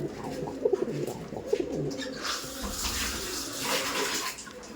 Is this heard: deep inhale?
no